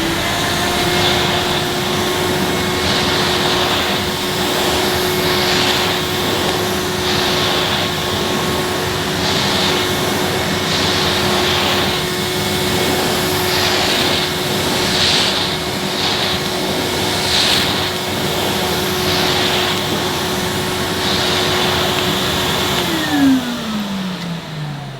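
A Henry Hound vacuum cleaner runs on carpet while being pushed along, giving a steady, loud motor whine with a faint rhythmic swish, then winding down near the end.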